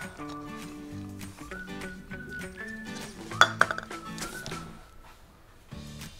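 A spoon clinking against a bowl as baking soda is added to homemade slime: a few sharp, bright metallic clinks bunched near the middle over quiet room background.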